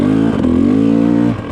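Enduro motorcycle crawling in first gear on a home practice track, its engine a close, loud, steady low drone that dips slightly near the end.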